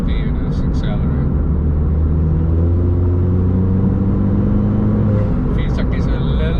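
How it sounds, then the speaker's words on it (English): A Ford Fiesta ST with a plated differential accelerates in fifth gear from about 50, a loud, steady in-cabin engine drone with rising tones, heard from inside the car with brief background noises at the start and end. "Fifth gear, slow it down to 50 and then let's accelerate."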